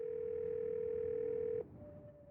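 A phone line gives a single steady electronic tone, faint and alone, that cuts off after about a second and a half, leaving a quieter, lower hum.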